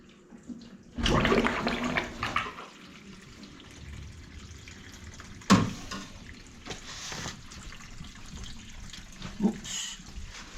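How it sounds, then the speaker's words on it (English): Water poured into a household waste pipe, filling it toward the overflow: a burst of running, splashing water for about two seconds, then quieter trickling and gurgling with a few small knocks and a sharp clunk midway. "Put a bit down it for a start, then I'll fill it up to overflow."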